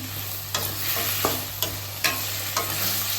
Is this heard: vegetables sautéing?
yes